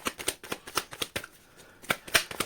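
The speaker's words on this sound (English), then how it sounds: "We're going to shuffle." Tarot cards are shuffled by hand in a series of crisp riffling bursts, a pause in the middle, then more quick flutters, close and alone.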